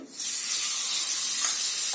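Mustard seeds and cumin crackle and sizzle in hot oil for a cucumber-tomato chutney tempering, a loud, steady hiss rising within the first moment and holding with no voices.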